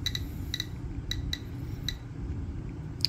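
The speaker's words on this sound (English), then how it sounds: "we're going to put this Geiger counter down inside this bowl here" A Geiger counter held inside a radioactive china bowl gives sparse, sharp clicks at an irregular pace over a faint background hum, quiet and close, with no talking.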